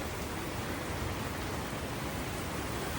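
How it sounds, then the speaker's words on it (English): Hard rain falls outside a parked Volkswagen with the window cracked slightly open, a dense, even hiss of drops that stays constant and fairly soft throughout, with no voices. "especially if it's raining hard, kind of like it is today"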